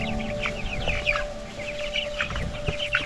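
Chicks and chickens on pasture cluck and peep repeatedly in short, close bursts, with a steady low hum beneath.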